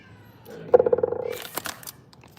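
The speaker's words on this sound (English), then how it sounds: "Did you hear that meow? That was my little cat." A small house cat gives a short, clear meow up close, indoors during rainy-day cooking, followed by faint rustling and clicks.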